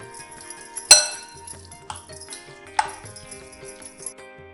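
A spoon clinks against a bowl while curd rice is stirred with crushed garlic, giving a few sharp metallic taps with softer scraping between them, close and clear with no talk.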